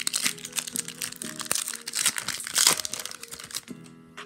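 Foil wrapper of a Donruss Optic basketball card pack being torn open and crinkled, with close, loud, irregular crackling and ripping throughout and a sharp tear peaking midway, no talk.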